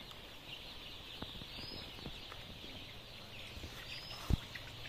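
Tiger chickens cluck faintly on a farm, with scattered soft calls and occasional light clicks over a quiet, steady background hiss.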